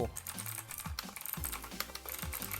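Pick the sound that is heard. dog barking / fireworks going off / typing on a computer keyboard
typing on a computer keyboard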